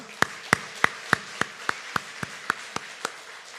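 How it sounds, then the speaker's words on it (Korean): A church congregation claps on Easter Sunday in a slow, even rhythm, about a dozen crisp beats spaced roughly a third of a second apart over a quiet room. "우리 부활하신 주님에게 영광의 박수 올려드릴까요?"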